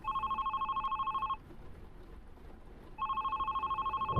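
A telephone rings inside the video game The Red Strings Club: two loud, steady electronic ring bursts separated by a short silent pause, with no voices over them.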